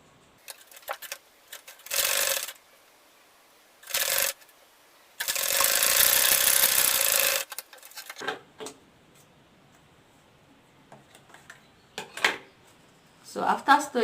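A sewing machine stitches a zipper onto an insulated lunch bag in several loud, close bursts of steady whirring, with quiet handling noises and talking between them.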